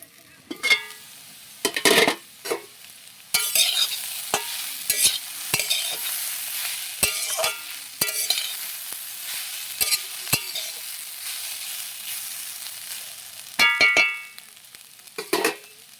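Food fries in a pan under a lid, a steady faint sizzle running throughout, punctuated by many sharp clicks and scraping knocks of a utensil against the pan, near and uneven, with no voices.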